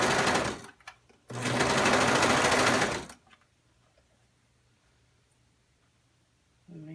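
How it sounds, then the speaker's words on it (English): A sewing machine stitches stretchy knit fabric cut on the bias, making two loud, steady whirring runs, a brief one and then a longer one, close up and followed by near silence. "so all the more reasons to go very slow when you sew it."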